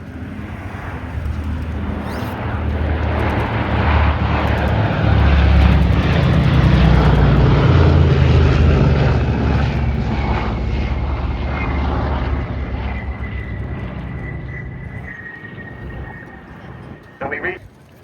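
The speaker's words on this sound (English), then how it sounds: "Of the North American P-51D Mustang forming up on the B-17." A North American P-51D Mustang and a B-17 bomber flying at an air show at RAF Cosford, making a loud sustained roar of piston engines and propellers that swells to a peak and then slowly fades as they pass, with a commentator's voice over the public address.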